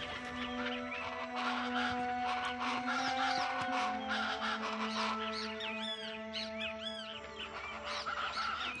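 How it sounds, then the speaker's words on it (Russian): Chachalacas, the noisy birds of the Pantanal wetland in Brazil, call as a loud, continuous chorus of overlapping harsh, rhythmic cries that fills the whole stretch with no pauses. "На острове живут самые шумные птицы Пантанала."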